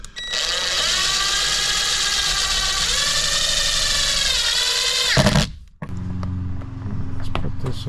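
A power drill drives a self-tapping screw into a front spoiler, a loud, steady high whine for about five seconds that cuts off abruptly, followed by a lower idling hum.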